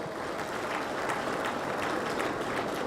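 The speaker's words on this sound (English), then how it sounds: "Please a special round of applause for Bayelsa elders." An audience at a state education trust fund launch in Bayelsa applauds steadily, a dense, sustained wash of clapping with no break.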